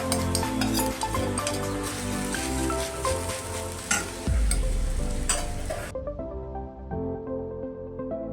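Grated potato sautéing in a pan, a steady loud sizzle of frying under repeated stirring and scraping, close up, which continues more softly and muffled toward the end.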